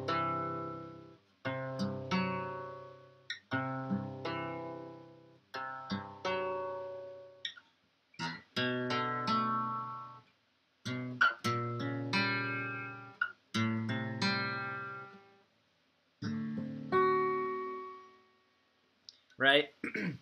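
An acoustic guitar picks out the low bass line of a melody in separate short phrases, each ringing and stopping with pauses between, played alone and close.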